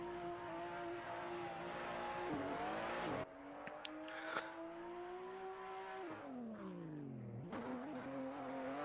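A BMW E92 race car rolls up to the line at a drift competition at Sochi Autodrom. Its engine drones loud and close, the revs rising and falling in several sweeps with brief blips of throttle.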